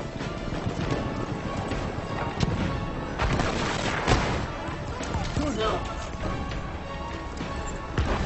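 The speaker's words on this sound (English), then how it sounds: "I'm running on the horse." Hooves gallop steadily as a player rides a horse in a video game, a continuous clip-clop rhythm under dense game noise and a faint background voice.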